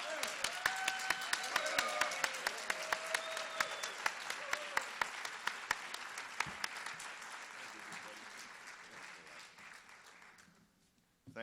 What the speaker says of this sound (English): I'm grateful for your applause.